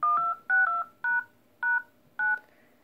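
Telephone keypad DTMF tones pressed in sequence to play a song's melody: five short clusters of dual-pitch beeps, some rapid pairs, loud and clear with no talking.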